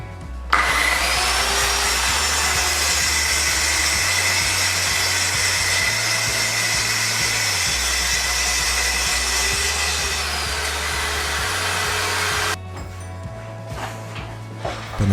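Scheppach PL55 plunge circular saw ripping through 18 mm spruce glued-laminated panels and birch multiplex plywood, a loud steady high-pitched whine with a low motor hum that shifts between cuts, running continuously before dropping off near the end.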